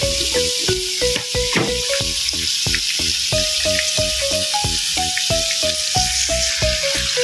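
Meat for dinuguan sizzles and fries in a pan, with a steady close hiss broken by repeated scraping stirs and tonal clinks of a utensil against the pan.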